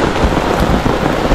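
Steady, dense rain pours down near the Song Be river, a loud, continuous hiss of drops close by with a low rumble beneath and no voices.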